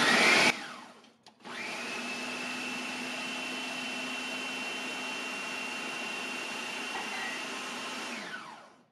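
Food processor running steadily while melted butter is drizzled into crumbs for a crust, a loud continuous motor whir lasting several seconds after a brief start-up, then stopping.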